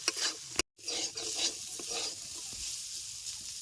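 Potato and yardlong beans frying in a pan with turmeric, a close sizzle with scraping stirring strokes, briefly cut off by a short gap early on, no voices.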